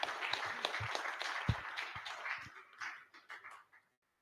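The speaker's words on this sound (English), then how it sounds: "Another round of applause for our editor." Audience applause for an editor at a book talk, a moderate patter of claps that holds steady and then thins out and stops near the end.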